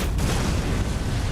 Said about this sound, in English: Alright, let's test out the cannon.